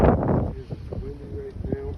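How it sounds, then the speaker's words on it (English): Wind gusts buffet the microphone outdoors at a pistol shooting range, making a low rumbling roar that is loudest at the start and then eases, with faint muffled voice-like sounds underneath. "It's windy right now."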